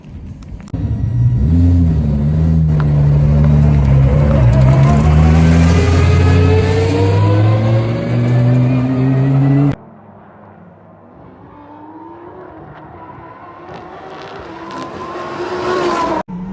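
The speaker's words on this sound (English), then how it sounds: "Let me take you around a lap at Varano in the Lamborghini Super Trofeo Evo." A Lamborghini Super Trofeo Evo race car roars loudly on the Varano circuit, its engine pitch climbing steadily under hard acceleration, then dropping sharply and building again, heard from on board at close range.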